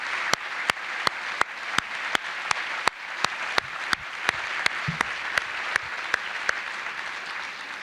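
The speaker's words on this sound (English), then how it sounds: "how about a warm round of applause for Rodney?" Applause from an audience at a school district staff awards ceremony for an award recipient, heard as a steady wash of clapping with regular sharp louder claps standing out throughout.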